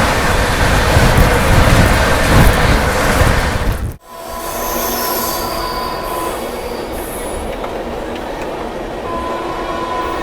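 A saffron-coloured Varanasi Vande Bharat Express rushes past at close range with a loud, roaring wind and rail rumble that cuts off abruptly. A lighter rolling rumble with faint wheel squeals follows.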